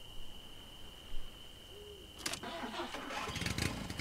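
A car engine in the video game Jalopy cranks and catches after a steady high tone, the starter churning then the motor settling into a rough, uneven idle, close and moderately loud.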